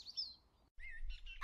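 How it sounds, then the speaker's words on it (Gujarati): Small birds chirping in short bright tweets, a couple of quick calls near the start and a busier run of chirps after a brief gap, close and clear with no voices. "ચકલી બહેન અને મીનુ માસીની જોડી રંગબેરંગી પાંખો ફફડાવતી, મધુર કલરવ કરતી બજાર તરફ ઉડાન ભરી રહી હતી"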